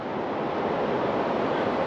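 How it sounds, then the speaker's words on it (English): Cold wind blowing beside the River Trent, a steady broadband roar that buffets the microphone without letup, loud and close, with no voices. "That wind's blowing upstream, so it means that I'm facing into that really cold wind."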